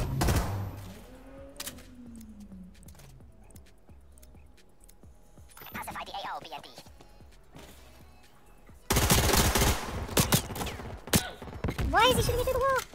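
Video game gunfire from a player shooting through a wall, scattered quick shots and bursts, quiet at first and then louder rapid fire near the end, with voices talking in between.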